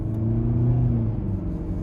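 A 2026 Nissan Altima SV Special Edition sedan on the road during a test drive, its engine giving a steady low rumble with a slight rise in revs, heard from inside the cabin with no talking.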